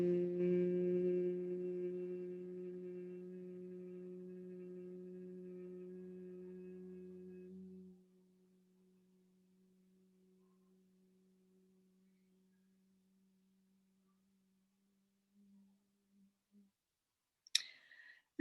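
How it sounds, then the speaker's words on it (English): During a yoga session, a gentle humming breath on the exhale holds a low, steady pitch for several seconds and then fades into near silence, with a few faint clicks near the end. "a gentle humming breath on your exhalation"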